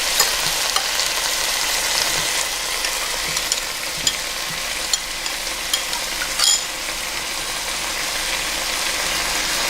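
Cornstarch whisked into about a cup and a half of water for a clam and basil stir-fry sauce, a steady close hiss of stirring with faint clicks of the utensil against the bowl, continuous and without talk.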